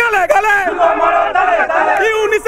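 A large protest crowd at the border fence chants slogans in unison: loud, rhythmic shouted voices, close and continuous, rising and falling with each line.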